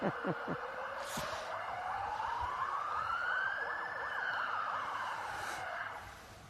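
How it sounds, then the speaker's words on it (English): An ambulance siren passes by near a road intersection during a men's pairs bowls grand final, its rising-and-falling wail sweeping up and back down steadily for several seconds, loud and continuous. "There's another ambulance comes past."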